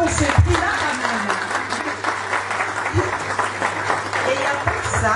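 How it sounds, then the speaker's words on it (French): Applause from an audience at an International Women's Day gathering after a prize is announced, with steady clapping and voices talking and chuckling underneath. "On peut applaudir un peu pour ce prix-là quand même."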